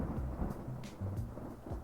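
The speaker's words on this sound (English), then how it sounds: "there was an audible thunder and flashes of lightning could be seen" Low rolling thunder rumbles repeatedly beneath a steady wash of rain in an asexual dating sim video game, with no voices.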